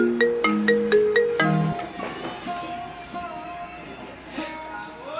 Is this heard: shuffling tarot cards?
no